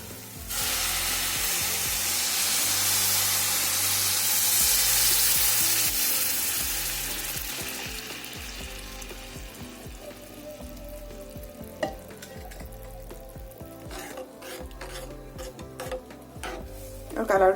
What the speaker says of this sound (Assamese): ল' ফ্লেমত প্ৰায় মই 15 মিনিটমান ভাজিছোঁ